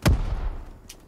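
A frag grenade goes off in a video game with one sharp, loud blast that decays quickly into a low rumble, followed by faint clicks.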